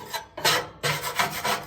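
A metal scraper rasps grease and pellet dust out of a Lone Star Grillz pellet smoker, in two bursts of close, gritty scraping strokes separated by a short pause.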